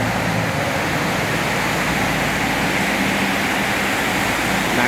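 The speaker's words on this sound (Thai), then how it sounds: "ฝนตกหนัก มอเตอร์ไซค์ วิ่งอยู่ อันตรายนะครับ หนักจริงๆครับตกนานแล้วด้วย ตกนานตกหนัก" Heavy, long-lasting downpour drums on a road in Bang Kruai–Sai Noi toward Bang Bua Thong, Thailand, a dense steady roar of rain and spray with traffic blended into the wash, loud and unbroken.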